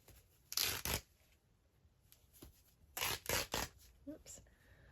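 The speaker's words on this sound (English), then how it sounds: "I always like to tear that header piece off." Black lace having its gathered header strip torn away by hand, heard as two short ripping bursts near the start and a cluster of three or four quicker tearing pulls later, close and fairly quiet with soft handling noises between.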